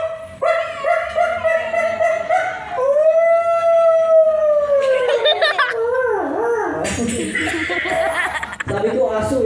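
A child at a first-birthday magic show imitates a dog, drawing out long howling, sliding vocal tones and then yelps, loud and close, followed by chuckling and nearby chatter.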